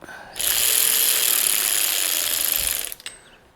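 A ratchet snugging bolts on a 2002-2006 Toyota Camry engine during reassembly, a close, loud, continuous rapid clicking that runs for about two and a half seconds before stopping, followed by a few faint clinks.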